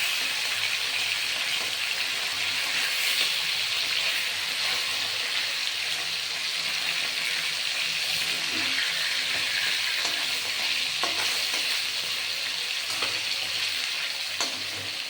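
Small carp fish frying in a pan of hot oil: a continuous, fairly loud bright sizzle and crackle with faint occasional clatter, no talking.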